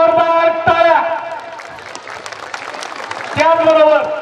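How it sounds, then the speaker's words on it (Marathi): A crowd applauds three honoured guests at a school event, with clapping and cheering under a voice on a microphone, talk continuing over the applause. "या तीनही मान्यवरांसाठी जोरदार टाळ्या"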